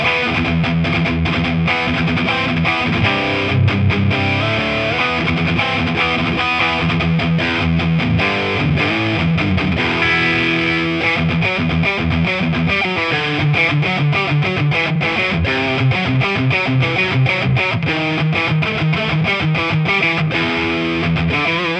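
Slash-edition Epiphone or Gibson electric guitar played at maximum gain, giving a thick, saturated distorted tone with sustained chords and riffs, loud and continuous throughout.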